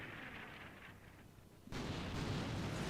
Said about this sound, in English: So it looks like we did switch to a line barrage now.